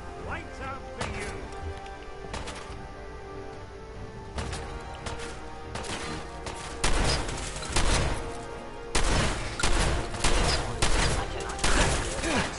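Gunfire in the video game Fallout 4, a dense fusillade of repeated shots and impacts in irregular bursts that grow louder toward the end, mixed with game sounds and talk.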